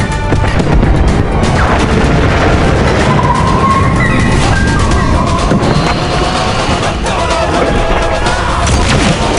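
A loud, dense blast of explosions and crashing booms rolls on without pause, with brief tonal whines scattered through the din and faint voices buried in the chaos of a battle scene.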